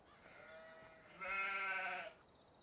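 Sheep bleats in the Farming Simulator 17 video game, a faint call followed by a louder, quavering bleat lasting under a second, with no talk over it.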